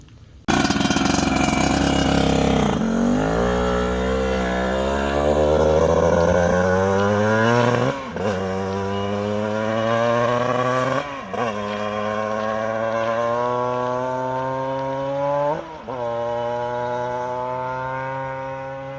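Vintage Yamaha motorcycle fitted with a YZ85 two-stroke engine, revving up from idle in a loud, close, buzzy rising drone that breaks at a few gear-change-like dips and climbs again.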